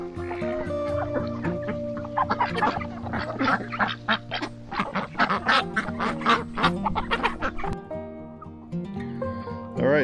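A flock of ducks and chickens fills the yard with dense quacking and clucking, calls overlapping in rapid bursts before thinning toward the end.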